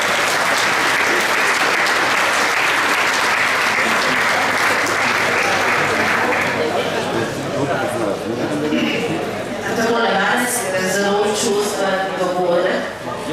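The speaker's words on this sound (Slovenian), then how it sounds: "Prosim, aplavz za Andreja." Sustained applause from an audience at a festive new-Mass celebration for a priest, dense and continuous clapping lasting throughout, fading slightly toward the end with some scattered crowd noise.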